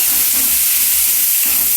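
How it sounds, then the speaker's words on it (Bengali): Onion, ginger and garlic fry in a pan with a loud, steady hiss and sizzle, close up and with no voices over it. "আর এখানে পেঁয়াজটা আমার একটু ভাজা ভাজা হতে থাকুক"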